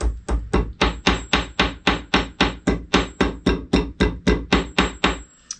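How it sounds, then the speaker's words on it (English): A hammer strikes a small textured metal pendant, shaping it into form: a steady run of about eighteen evenly spaced, crisp taps, close and fairly loud, ending with a light scrape. "gently hammer it into form so as not to completely take out my texture that I just added"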